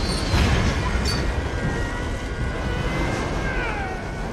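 A train in a Spider-Man 2 film scene brakes with a dense, loud roar of rumbling wheels and faint metallic squeals sliding through the noise, continuous throughout.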